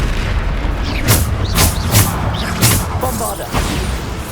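Bombarda spell explosions in Hogwarts Legacy, a video game, go off as repeated deep booms and crackling blasts about every half second, dense and loud over a rumbling low background.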